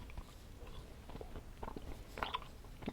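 Sour candy strips are chewed close to the mic, producing quiet, irregular sticky bites and soft crunching with no talking.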